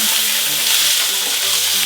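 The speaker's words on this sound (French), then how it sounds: "Le steak cuit tranquillement." Loud, steady sizzling of steak frying in a hot pan, close up, with a constant crackling hiss and no voices.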